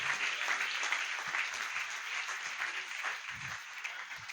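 A church congregation clapping during worship, a broad, steady wash of applause that keeps going for the whole stretch at moderate loudness, with a few low thumps underneath.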